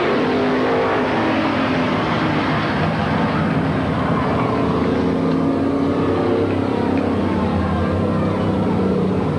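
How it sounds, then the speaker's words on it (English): Stock cars racing at Midvale Speedway in 1986: a loud, continuous roar of engines from the pack under a dense wash of crowd and track noise, with no breaks. "This time, checker flag, Cal Holbert Jr., the winner of our pursuit race"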